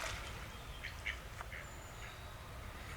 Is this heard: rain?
no